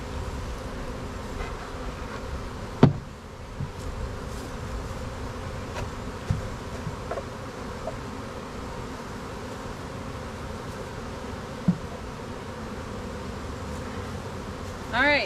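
A swarm of honey bees buzzes continuously and close by, a steady drone that persists throughout with occasional faint knocks and rustles in the background.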